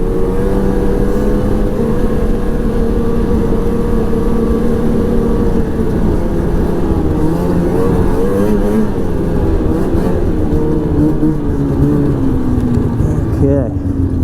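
A 2006 Ski-doo Renegade 600 SDI snowmobile on a trail test ride, its engine a loud, close, steady drone that rises and falls in pitch as the throttle changes.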